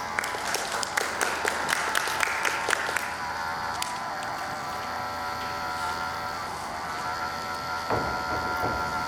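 An audience at a public speaking competition in Thailand claps briefly with a few distinct sharp claps at first, then the applause settles into a softer, sustained patter over a steady hum.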